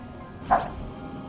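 A square bow creature in the game Polyball gives a single short, yipping bark, brief and fairly faint against a low steady background hum.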